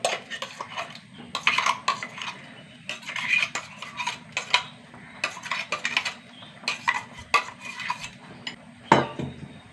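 Spoon scraping and clinking against a pot as ground paste is stirred into boiling tamarind curry, with repeated uneven metallic taps and stirring strokes, close and fairly loud, with no talk.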